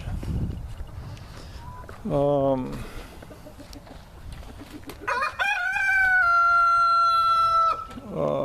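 Two roosters crow at a backyard coop where breeders are kept: a short crow near 2 seconds, then a long, loud, sustained crow from about 5 to 7.7 seconds, with a voice talking between them.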